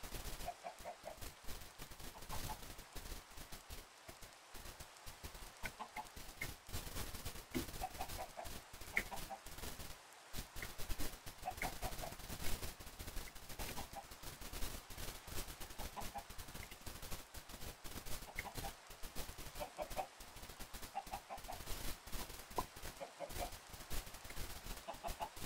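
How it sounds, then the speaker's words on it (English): Chickens cluck in sporadic bursts over a dense, crackling background of Minecraft sound effects, fairly quiet and continuous. "I can hear chickens laying eggs."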